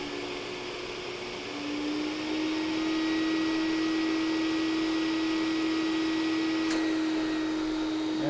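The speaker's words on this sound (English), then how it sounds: "So there's the working vacuum of our Lindhaus." A Lindhaus HF6 vacuum cleaner runs steadily and close by, holding a constant motor whine with a faint click near the end, and no one speaks over it.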